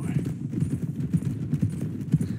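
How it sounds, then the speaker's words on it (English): Horse hooves clip-clop in Red Dead Redemption 2, a steady, rhythmic walking beat of close, fairly loud hoof falls, with faint voice activity underneath. "My last horse was called Nugget."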